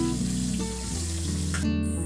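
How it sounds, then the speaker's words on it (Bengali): Koi fish frying in hot mustard oil in a heated wok, a steady sizzle and crackle with a low background hum, no talking. "কিছুটা সরষের তেল দিয়ে নিয়ে তেল গরম হয়ে যাওয়ার পর এইভাবে মাছগুলোকে এক এক করে দিয়ে দিয়েছি।"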